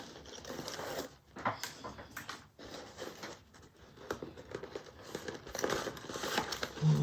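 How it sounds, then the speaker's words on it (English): Backing is peeled off double-sided tape in short crinkly bursts of plastic film rustling and tearing, close and fairly quiet, with pauses between pulls. "let's remove double-sided tape, the backing off the double-sided tape"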